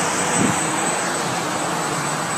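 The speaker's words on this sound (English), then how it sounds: "Footage of the drone coming in for a landing." A government drone coming in to land gives off a steady, loud broadband engine roar, continuous and unchanging throughout, with no talking.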